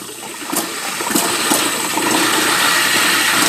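Water rushing steadily from a faucet in a 2021 Keystone Hideout 175BH travel trailer during winterizing, a continuous hiss that grows slightly louder, with a few brief knocks.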